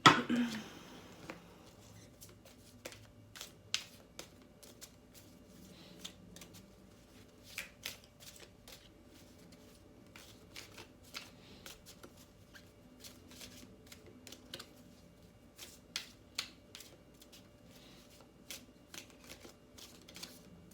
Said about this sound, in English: shuffling for Kel for upcoming week